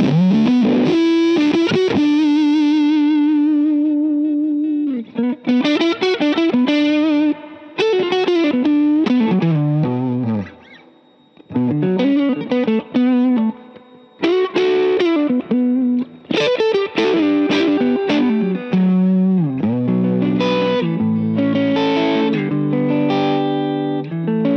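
Electric guitar through a Kingtone Minifuzz V2 fuzz pedal cleaning up, playing lively strummed chords and note runs with a gritty but clearer fuzz tone, loud and close with brief pauses between phrases.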